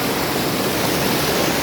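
Strong rushing water from a waterfall at a hidden dargah in Rajasthan, with people sitting in the water, pours as a steady, loud, broadband roar close by and without pause.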